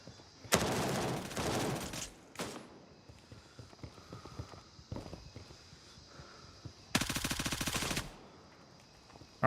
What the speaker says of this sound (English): We're shooting through windows.